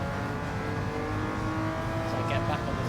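Ferrari 330 P4 race car pulling hard out of a corner on the Goodwood circuit, engine note rising steadily as it accelerates through the gears, loud and close throughout, with a voice talking over it.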